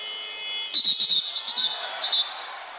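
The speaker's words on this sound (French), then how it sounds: "le buzzer a retenti, le buzzer des 24 secondes pendant le shoot de Drevo" Basketball 24-second shot clock buzzer in an arena during a professional game, a sustained high electronic tone under a commentator's voice, with crowd noise in the background.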